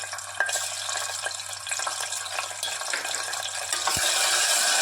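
Masala paste frying in two teaspoons of hot oil, a continuous sizzle with occasional scraping and stirring clicks, moderately close and steady throughout.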